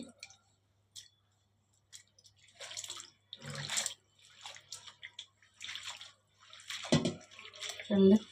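Lentils being washed by hand in a vessel of water, with intermittent close splashes and sloshing bursts amid quiet gaps, plus a few small clicks and drips.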